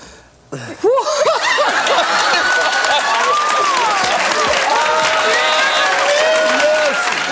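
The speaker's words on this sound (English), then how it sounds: "when somebody says they're not married, people applaud" Talk-show studio audience bursts into applause after a dating-segment reveal, a sudden loud wave of clapping mixed with laughter and high whoops that carries on steadily to the end.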